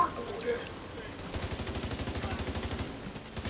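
Rapid automatic gunfire in Tom Clancy's The Division 2 during a Dark Hours raid, a steady stream of regular shots holding for about two seconds after a quieter start, with faint talk in the background.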